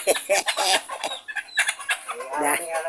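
Native chickens cluck and squawk close by in a busy, uneven stream of calls, with some voice-like sounds mixed in.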